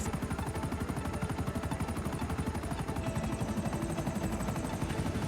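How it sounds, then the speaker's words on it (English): A video game helicopter lifting off in GTA 5 Online, its rotor chopping rapidly and steadily, loud and close, with a dense engine roar underneath and no pauses. "Lift up the helicopter!"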